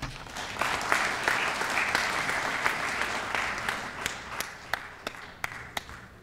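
An audience at a conference panel gives a round of applause, full and dense at first, then thinning to scattered individual claps that ring out sharply toward the end.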